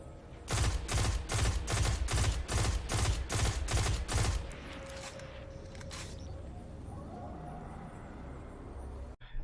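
SUROS PDX 45 submachine gun firing in a video game, about ten rapid evenly spaced shots in a loud burst, followed by quieter mechanical clatter and a low ambient hum.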